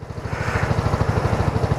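A BMW C400GT scooter engine pulls away with a close, loud, steady pulsing drone that swells slightly in strength, its rapid throbbing beat continuous throughout with no talk.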